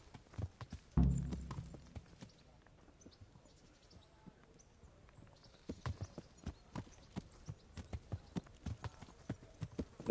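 Horse hooves galloping in the medieval video game Kingdom Come: Deliverance, a steady run of quick clip-clop beats that thins out after a heavy thump, then picks back up, faint and alone.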